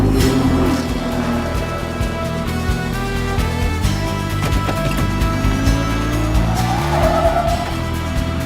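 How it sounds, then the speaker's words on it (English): Race cars roar at Daytona as the number 98 Ford surges, a loud, continuous engine howl with rising and falling pitch, layered with tire squeal and crowd-like wash throughout. "a pitched battle for the lead is being waged as the number 98 Ford makes an incredible late surge"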